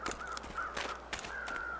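Crows caw in the snowy wilderness of The Long Dark, several harsh, rasping calls in quick succession over a quiet background, moderately distant and alone without talk.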